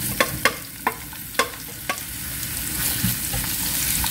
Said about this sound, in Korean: 양파가 좀 투명해질 때까지 볶아줄 거예요